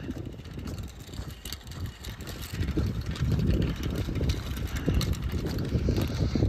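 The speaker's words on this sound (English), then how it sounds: "Now we're getting another decent gust." Wind gusting outdoors on a cold autumn day near a brook, a low rumbling buffet against the microphone that swells and builds louder in the second half, with no talking.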